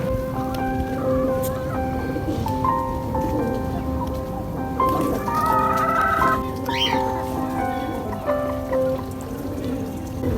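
Chickens clucking in a backyard pet enclosure among other birds, several close calls and chattering over a constant rustling, rain-like background.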